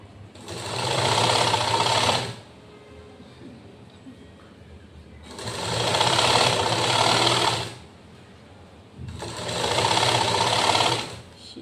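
An electric sewing machine stitches a lined patti blouse in three sustained, loud, close bursts of rapid whirring, each a few seconds long with quiet pauses between.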